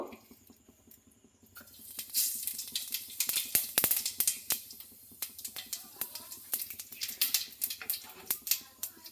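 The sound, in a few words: cumin seeds frying in oil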